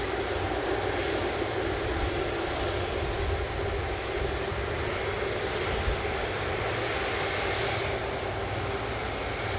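Two Airbus A330 airliners taxi at Manchester Airport, their engines a steady, loud broadband roar and whine that holds evenly throughout without pause.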